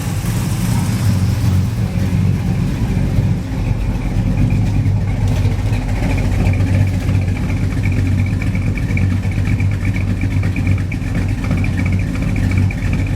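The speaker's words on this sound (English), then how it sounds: "Header leak." Chevrolet S10 engine idling with an exhaust header leak, a loud continuous rumble with ticking, raspy overtones that hold steady throughout, close by.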